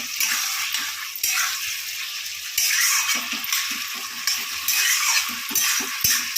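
Papaya curry fries in a pan with onions while being stirred, a continuous bright sizzle broken by repeated scraping and rattling strokes of the spoon, close up.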